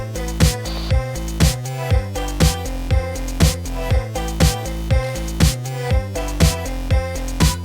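Loud electronic beat B section, a heavy pulsing bass line locked to regular kick hits with buzzy synth layers on top, driving and continuous, no talking.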